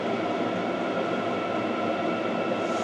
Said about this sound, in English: I can hear the fan is starting to slow down a bit there.